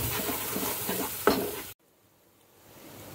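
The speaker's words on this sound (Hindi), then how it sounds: "SIM low patty अलागा कलुपुतू वेयिंचुकोवाली" Masala fries in a pan with a dense close sizzle as a spoon stirs and scrapes through it, one sharp clink near the middle before the sound cuts to near silence with a faint hiss returning.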